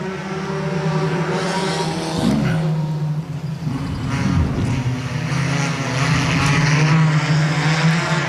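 Four-cylinder race cars roll around a dirt speedway toward the green flag, a loud engine drone that rises and falls as cars pass, with crowd and track noise around it.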